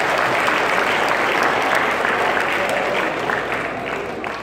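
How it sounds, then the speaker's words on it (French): Sustained applause from a congregation during a church service, dense steady clapping that fills the room throughout and eases off slightly toward the end. "Applaudissez son parole, s'il vous plaît."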